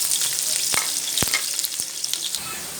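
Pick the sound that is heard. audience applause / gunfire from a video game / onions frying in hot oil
onions frying in hot oil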